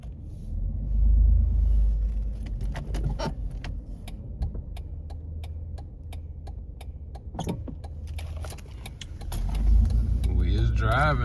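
A 2012 Jeep Liberty 4x4 Limited rolls along the road with a steady low engine and road rumble, a faint ticking clicker running through it, and a voice speaking at the end.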